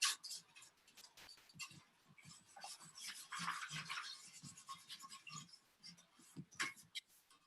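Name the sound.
scrubbing dried dirt off a root slayer shovel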